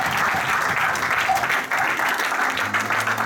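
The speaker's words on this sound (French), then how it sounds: "Amen, on peut acclamer le Seigneur." A church congregation at a crusade service applauds the Lord in sustained, dense clapping that fills the room evenly from start to finish, with a few voices mixed in underneath.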